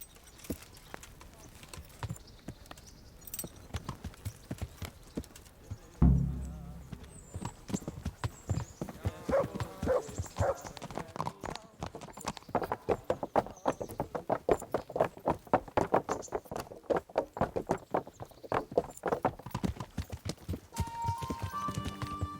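Horse hooves clip-clop in a steady, quickening rhythm in Kingdom Come: Deliverance, starting sparse and building to a brisk continuous trot, with a heavy thump early on and voices heard partway through.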